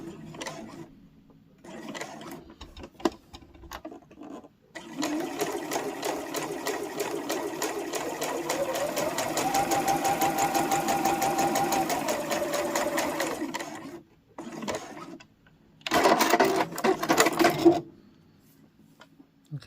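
Sewing machine stitching a fabric tab for a small boxed pouch, running in a long steady whirring burst of rapid stitches, with shorter start-stop runs and clicks of the mechanism before and after.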